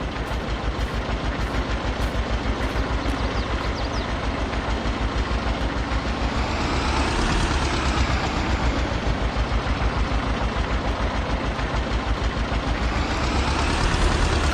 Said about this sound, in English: Let's take advantage of the moment the tractor needs to warm up.